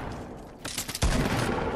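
Hitscan thermal sniper rifle fire in Fortnite: a loud, sharp shot lands about a second in, following a few softer cracks, with dense game noise carrying on after it.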